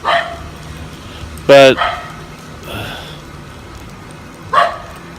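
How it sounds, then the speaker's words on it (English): A dog makes a few short yips and barks, one sharp and close, with a fainter whimpering bark later, while a person talks briefly between them. "we have the dog chatting at us"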